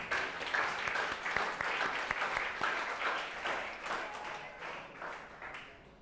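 A congregation at a church service breaks into warm, continuous applause, a dense crackle of many hands held steady for several seconds before gradually thinning and fading toward the end.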